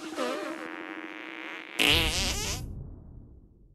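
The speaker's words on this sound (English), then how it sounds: "Make your fart detonate behind me." Cartoonish fart attack from the South Park: The Stick of Truth video game, a loud buzzy blast followed by a sharp bright burst and a fading rumble, heard alone.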